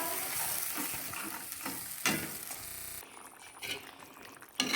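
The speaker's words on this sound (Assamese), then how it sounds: "পানীটো প্ৰায় উতলিছে" Water with garlic and ginger bubbling in a pan, a steady close simmering hiss with stirring clatter and a few louder scrapes, no voices.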